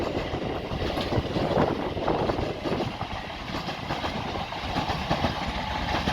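British Rail Class 701 electric multiple unit passing through Clapham Junction, a steady rumbling roar of wheels and traction with rail clatter, close and loud for the whole stretch, no talking.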